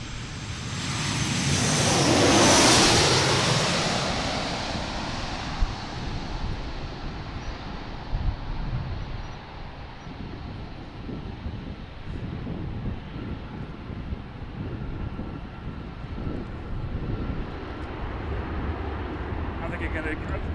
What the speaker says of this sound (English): Next flight coming in to the southwest from Fort Lauderdale.